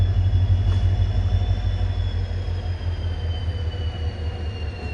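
A WDP 4D diesel locomotive heading a special train idles at a halt, its deep, steady engine rumble loud and close, with a faint high whine running over it and no voices.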